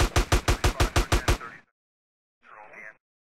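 Video game gunfire in GTA San Andreas: a rapid burst of about nine evenly spaced shots, close and loud, followed by a short scraping noise.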